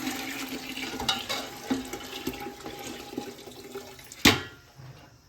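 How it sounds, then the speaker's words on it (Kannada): Cow's milk is poured into a cooking pot while sheer khurma is being prepared for Eid, giving a soft, uneven splashing trickle with a few clinks and a sharper knock near the end, and no talking. "ನೋಡ್ರಿ ಈ ಥರ ಆ್ಯಡ್ ಮಾಡ್ಬೇಕು ಹಾಲು."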